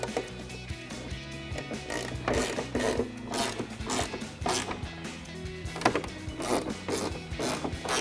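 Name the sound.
ratcheting wrench tightening spoiler bolts on Mustang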